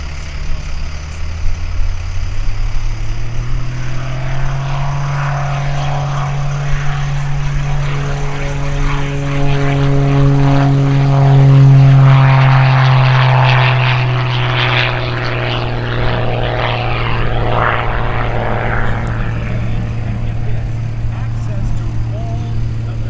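An Extra 330 aerobatic plane's propeller engine roars close and loud during takeoff at an airshow, its steady drone rising in pitch and swelling as power builds, with a buzzing propeller rasp over the top.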